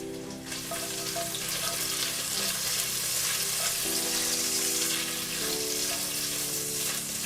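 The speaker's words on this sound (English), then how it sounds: "I want to fry that until it gets a little bit of color" Thinly sliced onion fries in a pan, a dense, steady sizzle that fills the whole stretch, close and fairly loud with no talk.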